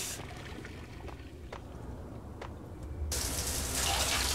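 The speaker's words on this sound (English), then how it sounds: "Turn the showers on." A shower in the video game Max Payne is switched on partway through, and a steady hiss of running water replaces a quiet room with a couple of faint clicks before it.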